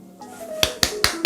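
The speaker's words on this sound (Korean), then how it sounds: "박수!" Four sharp, evenly spaced hand claps ring out close and crisp in quick rhythm, over a faint sustained musical tone in the background.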